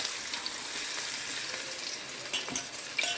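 Cauliflower, with green chillies and onion, deep-fries in hot oil in a home kitchen, giving a close, steady sizzle and crackle with a few louder pops near the end.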